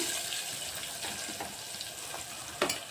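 Sliced onions sizzle in hot oil in a pan for vankaya curry, a steady frying hiss broken by soft stirring scrapes and a sharper clink near the end, close and continuous.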